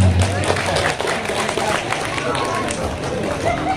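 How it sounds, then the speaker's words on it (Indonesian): An audience at an Isra Mi'raj religious gathering claps in a busy, uneven burst, with crowd murmur and voices mixed into the clapping throughout. "Tepuk tangan dulu."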